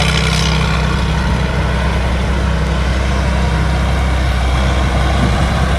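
An old Kaset Phatthana combine harvester drones continuously and loudly while cutting rice, a steady low heavy engine rumble without pause or talk.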